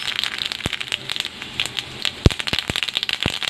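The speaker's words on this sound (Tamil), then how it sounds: "சீரகமும் வந்து நல்லா ஸ்ப்ரிங்கில் ஆகுது." Cumin seeds sputter in hot oil after mustard seeds, a close, lively crackle of sharp irregular pops scattered over a faint sizzle.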